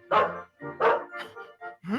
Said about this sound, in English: Dear God, a dog!